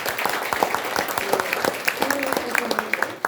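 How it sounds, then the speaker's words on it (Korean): A room of people clapping in a dense, steady round of applause, with faint voices murmuring underneath. "박수 한번 드리겠습니다"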